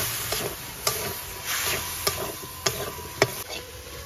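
Masala for a boal fish ghonto is fried and stirred in a pan, with a low steady sizzle and a spoon scraping in sharp clicks about once a second, close and fairly quiet.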